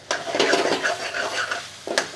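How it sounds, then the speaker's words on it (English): Lamb mince frying in oil in a pot gives quiet sizzling under repeated stirring, with a utensil scraping and knocking against the pot in uneven bursts close by. "So basically, I'm just frying it in the oil"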